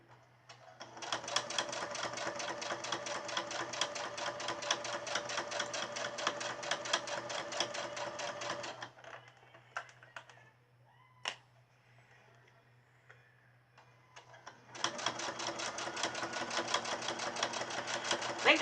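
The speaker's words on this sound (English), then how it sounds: "And I'm going to back stitch" Sewing machine back stitching a child's half apron, running in a steady rapid buzzing burst for about nine seconds, pausing for a few seconds of quiet with small clicks, then starting up again, close and loud.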